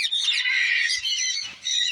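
Loud, harsh squawks from ringneck and Princess of Wales parrots in an aviary repeat almost without pause, with a short break near the end, close by and with no talking.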